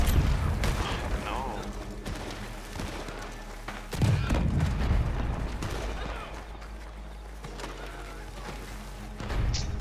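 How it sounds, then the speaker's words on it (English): Gunfire bursts in an online shooter match, rapid shots and impacts over a busy game soundtrack, with a few louder reports standing out midway and at the end. "He didn't even raise his gun up, he just shoots me"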